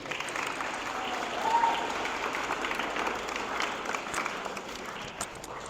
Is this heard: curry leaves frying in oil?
no